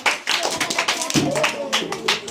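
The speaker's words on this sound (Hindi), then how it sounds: "सही जवाब ताली बजाने वास्ते" Clapping from students rewarding a correct answer in a history oral quiz in a classroom: a dense, uneven burst of hand claps from a small group, loud and close, with some voices mixed in.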